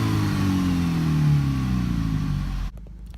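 A VW MK6 GTI with a new downpipe and the muffler deleted revs up loud and close, the engine note climbing steadily before cutting off abruptly into quiet near the end.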